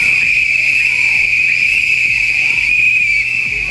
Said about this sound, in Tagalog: Sipol!